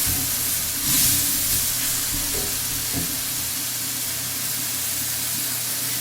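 Minced garlic sizzling in a hot pan with cremini mushrooms, a steady close hiss with a brief surge near the start.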